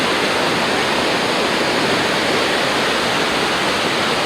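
Water pours from Salandi Dam at Hadagarh, Keonjhar, in a loud, dense, unbroken roar, with no other sounds.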